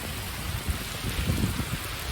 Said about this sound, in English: we're getting quite a bit of runoff here from the road